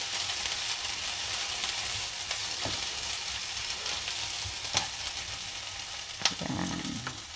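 Garlic sautéing in a pan for a mussel, squash and spinach dish, a steady broadband sizzle with a few sharp clicks and scrapes of stirring, close and continuous, no talking.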